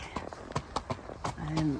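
Horse hooves clip-clop on a road closed to traffic, a quick series of sharp, close hoof strikes in an uneven trotting rhythm, with a person talking over them.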